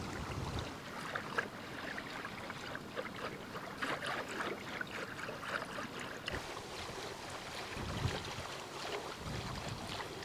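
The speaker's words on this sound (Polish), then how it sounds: "Dzisiaj jest dość duży wiatr, co wzmaga poczucie zimna." Strong gusty wind blows outdoors at a cold-water winter swimming spot with 8°C water, buffeting the microphone with low rumbling bursts over a constant rushing roar.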